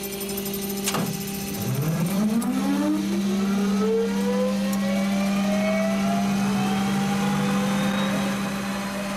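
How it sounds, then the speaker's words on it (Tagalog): Philippine Air Force Bronco aircraft engines starting up, a rising whine that swells into a loud, steady roar close by, with no talk over it. "Sa sobrang ingay ng makina, hindi ka maririnig kahit sumigaw ka."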